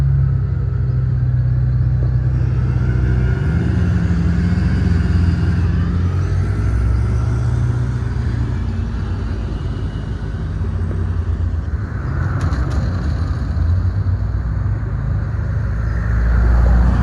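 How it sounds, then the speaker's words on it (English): McLaren F1 supercar departing a Goodwood hypercar breakfast meet, a steady loud low engine rumble that swells slightly as the car pulls away, mixed with crowd and ambient background noise. "the holy grail of all supercars, hypercars, just at the back there, the McLaren F1. As you will see that depart right now."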